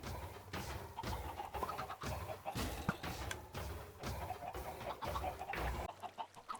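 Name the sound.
chickens clucking in Minecraft video game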